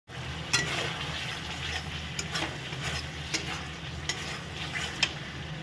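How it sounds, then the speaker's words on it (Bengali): Spice paste (masala) being stirred and fried in oil in a pan for a dhokar dalna with raw banana, a steady low sizzle under repeated spoon scrapes and taps against the pan, close up with no voices. "দিয়ে এখন এটাকে আমি কষিয়ে নেব মশলাটাকে"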